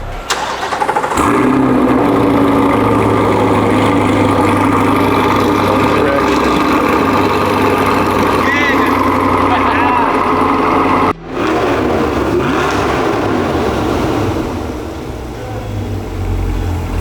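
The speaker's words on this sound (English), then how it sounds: "We're gonna give the car a start, see how it sounds." A 2023 Chevrolet Corvette C8 engine with a new exhaust system cranks and fires up, settling into a loud, throaty idle with a deep exhaust rumble; a brief cut midway, then the idle continues.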